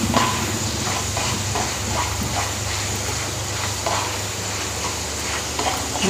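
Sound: okra and potato sabzi roasting in oil

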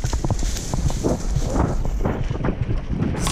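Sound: horses clip-clopping, army mounted troop riding

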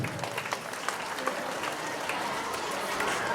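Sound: audience applause welcoming the district panchayat president

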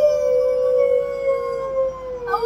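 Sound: people imitating wolves howling

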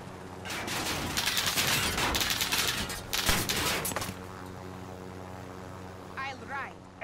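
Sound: gunfire in the video game Call of Duty Warzone

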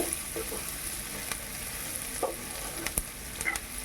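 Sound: onions frying in a pan with salt

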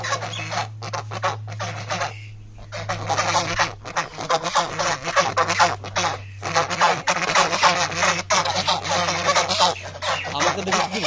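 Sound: geese honking

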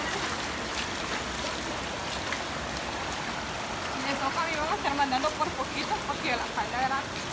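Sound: flood water flowing over a bridge after heavy rain

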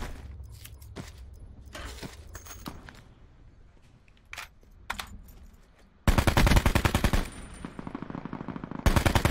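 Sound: gunfire in video game

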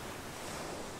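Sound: violent wind and sea waves in the video game For The King

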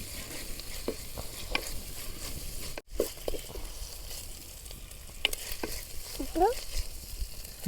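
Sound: frying ginger garlic paste for fish head curry

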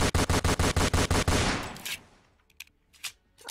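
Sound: AK-47 gunfire in Roblox Fortnite video game

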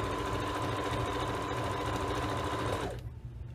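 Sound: sewing machine stitching forward and back to lock a seam

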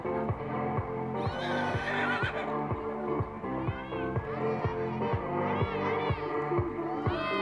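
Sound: pony whinnying, calling other horses

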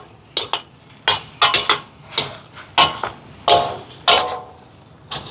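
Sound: stirring chicken puttu kottu in a pan

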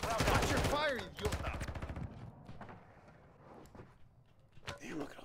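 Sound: gunfire in video game Warzone 2.0

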